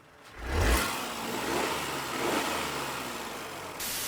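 A 2015 Peugeot 2008 with a naturally aspirated 1.2 petrol engine and automatic gearbox revs up sharply, then settles into a steady, fairly quiet mid-pitched engine hum, heard close with no talk.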